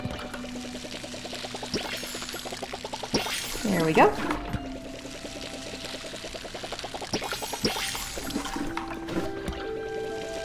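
Watering crops in the video game Palia: a steady pouring, splashing water effect with rhythmic game tones underneath, while a player talks over it.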